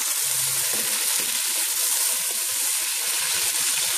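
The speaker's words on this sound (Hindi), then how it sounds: "तो यहाँ पे चिकन मैंने लिया है, 3 पाव चिकन है ये। इसको भी हम फ्राई करेंगे।" About three pav of chicken fries in a pan for achari chana dal, giving a steady, loud, close sizzle and crackle throughout with no talking.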